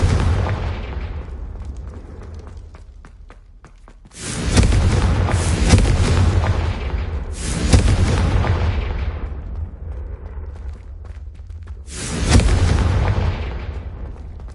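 Confringo explosive spell blasts in Hogwarts Legacy: loud, deep booming explosions strike three times at uneven intervals, each one crashing in hard and then rumbling away slowly, following the tail of an earlier blast.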